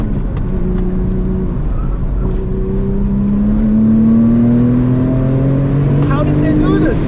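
Turbocharged Porsche 996 GT2 engine pulling hard under acceleration from inside the car, a steady rising drone climbing in pitch over several seconds, loud and continuous with a voice talking over it.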